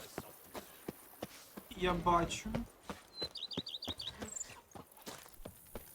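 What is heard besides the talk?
horse galloping in video game The Witcher 3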